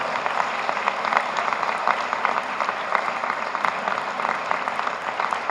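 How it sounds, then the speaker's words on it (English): Applause for volunteers at the Sri Sathya Sai World Youth Festival in Prasanthi Nilayam, a large crowd clapping in a thick, even patter with a few sharper claps standing out, continuous throughout. "So a big applause for all the volunteers."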